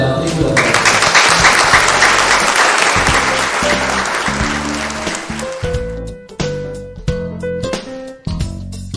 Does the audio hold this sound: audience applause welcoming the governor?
yes